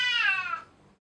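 A single cat meows once, close and fairly loud, a bright falling cry lasting about half a second before fading to silence.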